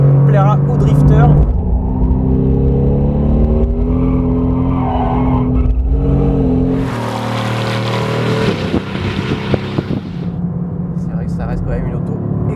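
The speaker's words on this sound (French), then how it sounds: "c'est assurément une voiture qui plaira aux drifters" A 585-horsepower Mercedes-AMG GT R drifts, its engine note rising and falling with shifting revs, then a burst of broadband tire and exhaust noise, while someone talks over much of it.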